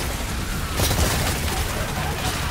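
Gunfire and blasts in the video game Exoprimal, a dense, steady barrage of shots and booms with a slight swell near the middle, loud and continuous behind faint game noise.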